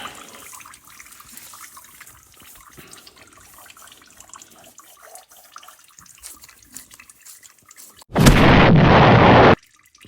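Engine oil draining from the pan of a 2024 Ram truck, a steady loud rushing pour that starts suddenly after a quiet stretch of faint shop noise and runs for about a second and a half before cutting off.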